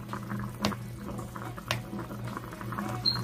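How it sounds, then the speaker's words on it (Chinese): Chinese sausage simmering in a pot of water, a low steady bubbling hum broken by a few sharp clinks or taps, heard close with no one talking. "它这个腊肠大概要煮20-30分钟吧，还是要煮熟啊"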